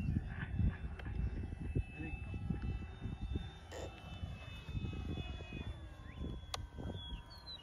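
An F4U Corsair RC model airplane flies overhead with a thin, whining engine drone that rises and shifts in pitch, moderately distant, under bursts of people talking nearby.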